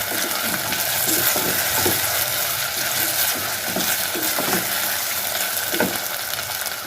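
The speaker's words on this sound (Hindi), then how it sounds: "चंद सेकंड के लिए इसमें फ्राई करूँगी मैं इसे अजवाइन में" Taro root frying in ajwain-seasoned oil, a dense continuous sizzle with soft stirring scrapes and occasional clinks of a utensil against the pan, steady and close throughout, no talk.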